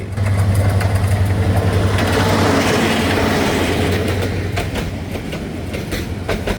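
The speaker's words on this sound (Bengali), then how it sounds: "মেলান্দহ বাজার স্টেশন থেকে একটি ট্রেন ছেড়ে এলো গন্তব্য জামালপুর ময়মনসিংহ হয়ে ঢাকা" A passenger train bound for Jamalpur, Mymensingh and Dhaka runs close by on the railway track after leaving Melandah Bazar station, a loud low rumble with rhythmic wheel clatter that slowly eases as it passes.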